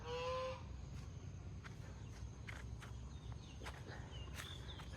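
A goose gives a short honk at the start, then faint rustling and scattered light taps continue quietly over a low background rumble.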